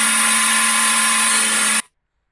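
A power tool cutting and drilling 1.6 mm aluminium for small PCB-mounted heatsinks gives a steady, loud, high whine that holds for nearly two seconds and then cuts off abruptly into silence.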